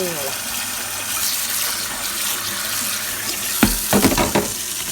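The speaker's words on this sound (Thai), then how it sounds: "แล้วก็ล้างน้ำอีกรอบนึง ล้างน้ำธรรมดาทั่วไปอีกรอบอีกสักรอบเนาะ" Pickled bamboo shoots rinsed under a running kitchen tap, a steady wash of water with splashing bursts near the end, recorded up close.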